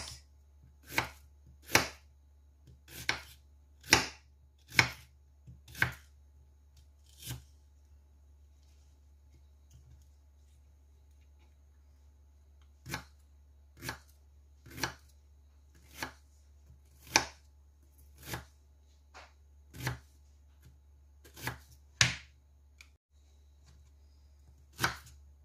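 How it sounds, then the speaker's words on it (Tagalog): A knife finely chops onion on a board for malunggay spring rolls, making crisp, regular knocks in two bursts, about a dozen quick strokes, then a pause and another steady run, close and clear over a low hum. "Mga pino lang ang hiwa ng sibuyas."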